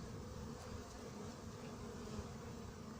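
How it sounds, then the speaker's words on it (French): A honeybee trapped inside an anti-hornet tent in Montgeron in early September, hovering and unable to escape, giving a steady close buzzing drone that continues unbroken throughout without any talk. "Là, il y a une pauvre abeille qui s'est coincée."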